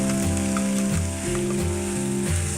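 Green chillies and spring onions fry over medium heat in a pan for samosa filling, making a steady, loud hiss of sizzling oil with melodic background music underneath.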